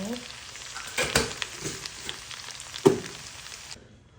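Palabok ingredients sautéed in a pan, a steady close sizzle with a few stirring scrapes and knocks, alone and ending abruptly.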